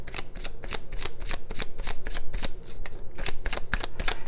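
Tarot cards are shuffled in a brisk, even rhythm of crisp riffling bursts, close and clear, with no talking.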